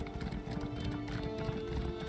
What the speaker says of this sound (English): Let's hop on the horse.